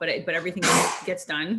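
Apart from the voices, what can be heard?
sneezing in the background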